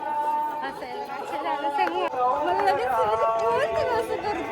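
Dense crowd chatter fills a busy temple on Angarki day, many overlapping voices forming a steady, close babble that never drops out.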